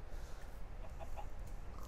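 Chickens clucking in Minecraft, a few short soft clucks rising over a steady low background hum, fairly faint and with no voices over them.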